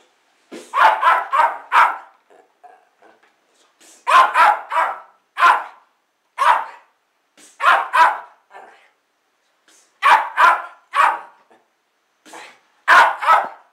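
A dog barks in short bursts of two to four sharp barks separated by quiet pauses, loud and close, with a few softer yips in between.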